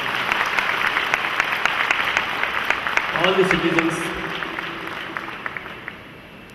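Sustained applause from a crowd, dense and steady, with a voice speaking briefly over it before the clapping gradually thins out.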